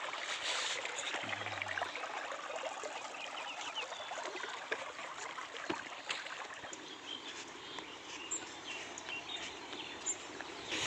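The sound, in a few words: small waterfall and flowing stream water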